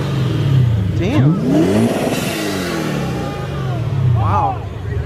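A modified Lexus RC F engine revs in loud, rising bursts at a car meet, its pitch sweeping up and down, with a shorter blip near the end and people talking in the background.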